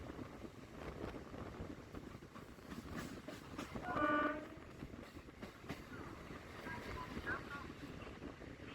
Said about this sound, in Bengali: আসছে সোদপুর এখানে দাঁড়াবে আমাদের ট্রেন